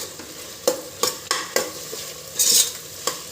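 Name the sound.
frying and stirring chillies and tomato in pan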